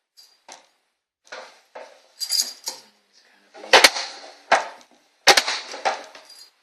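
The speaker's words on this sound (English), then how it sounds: "Take them, go in with a core, slice them" Strawberries are cored and sliced for sangria, giving a series of sharp, close knife taps and cuts on a board in uneven bursts separated by short silences.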